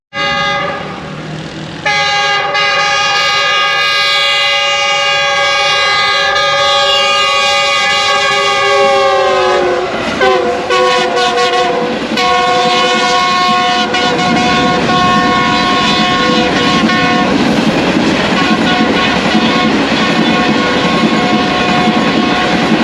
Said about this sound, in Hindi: इसी दौरान ग्रीन लाइन 5 अप आ रही है